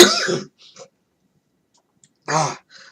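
A short, harsh throat-clearing cough, then a pause and a second rough cough, close and fairly loud with nothing else around.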